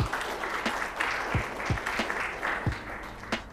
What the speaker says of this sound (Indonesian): Sekali lagi kita beri tepuk tangan kepada Pak Asep Dahliana.